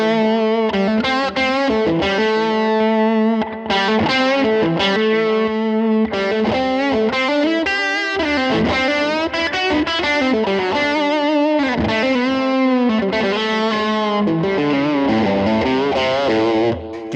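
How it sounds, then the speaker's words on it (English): Electric guitar played through a Line 6 Helix overdrive with soft clipping, a smooth, compressed drive tone; sustained chords and riffs ring continuously and loudly for the whole stretch with no talking. "You can hear that soft clipping coming in."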